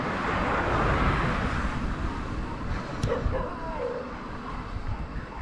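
A dog barks somewhere near a bridge over Tukad Bangkung in Bali, half-lost in steady wind and outdoor rumble, with a brief sharp sound around the middle.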